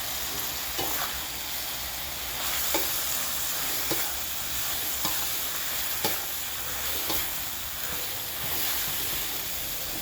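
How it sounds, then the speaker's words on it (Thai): Marinated pork and holy basil being stir-fried hard in a wok, a steady loud sizzle with periodic scraping clicks of the spatula running throughout, no talking. "เร่งไปเลยครับ เพื่อดึงกลิ่นกระเพราออกมาครับไ ม่ต้องผัดนานนะครับ"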